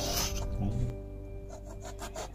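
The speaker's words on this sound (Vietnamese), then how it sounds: "Gọt vỏ, rửa sạch." A dull knife scrapes over a bottle gourd as it is peeled, giving a few short, close rasping strokes followed by lighter scratchy passes.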